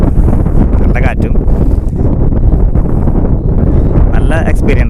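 Strong, cold wind in the Nelliyampathy hills buffets the microphone as a low, constant rumble beneath close talking that runs through the whole stretch.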